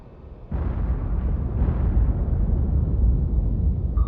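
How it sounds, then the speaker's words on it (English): Torpedoes explode in a naval submarine video game. A sudden loud, deep blast opens into a sustained rumbling roar that holds steady to the end. "it does seem like most of these torpedoes have been blown up"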